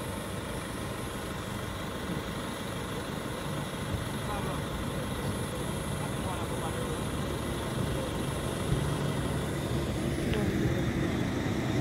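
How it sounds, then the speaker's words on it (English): A big helicopter flies overhead near a roadside accident scene in St Thomas, Jamaica, giving off a steady, loud engine drone that holds for the whole stretch. Faint voices mix in underneath. "Big chopper."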